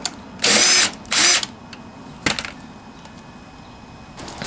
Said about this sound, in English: this is a 9/32 socket to get these other ones out